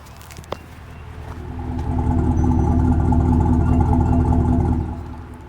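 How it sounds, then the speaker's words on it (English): Warmed-up Ford Super Duty V8 truck idles at the rear, its exhaust a steady deep rumble that swells louder in the middle and eases back, heard close with a single sharp tap near the start. "That's what the exhaust sounds like when it's warmed up."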